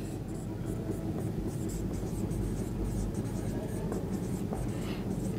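Chalk or marker scratching steadily across a classroom board during an English grammar lesson, a continuous dry scraping with no voices over it.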